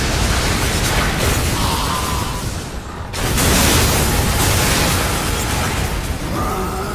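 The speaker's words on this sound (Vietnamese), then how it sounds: "Cái chiêu bắn này là nó không có dễ trúng mục tiêu, nhưng mà một khi mà nó đã trúng thì đam nó to" A heavy ranged attack explodes in the Darksiders 2 action game, dense rumbling booms and bursts filling the clip loudly, with a sharp drop and renewed blast midway.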